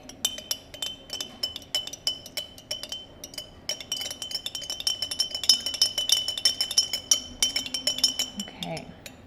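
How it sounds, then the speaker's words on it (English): A spoon stirs food coloring into water in a glass jar, producing rapid repeated clinks and taps against the glass, close and fairly light, with quiet talking at points. "let's put 2 drops in there. 1, 2. And let's stir that in."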